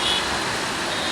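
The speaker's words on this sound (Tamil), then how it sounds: "இங்கே வேறு எத்தனை டிராஃபிக்னு ஃபுல்லாக வண்டிங்க." A busy road full of vehicles gives a dense, loud, continuous roar of traffic with no break.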